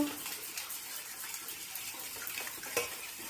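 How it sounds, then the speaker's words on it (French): Water poured from a bottle into a mixing bowl holding eggs, oil and cider vinegar for gluten-free bread dough, a steady close splashing trickle running the whole time with no talk. "Et je rajoute 300 ml d'eau."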